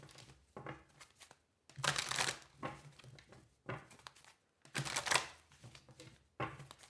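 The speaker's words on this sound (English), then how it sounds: "it's asking me to continue shuffling." Tarot cards shuffled by hand in bursts of crisp riffling and papery crinkle, several separate rounds broken by short pauses, close and moderately loud with no talking.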